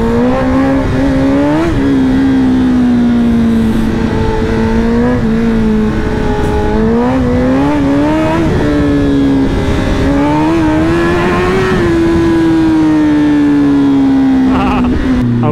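A rented Honda CBR1000RR sportbike hums along a slippery road in Thailand, its loud, steady engine drone rising and dipping gently in pitch as the rider holds the throttle.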